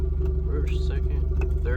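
A Honda car engine running in third gear under load, a steady loud low rumble with harmonic drone throughout, while a person talks over it.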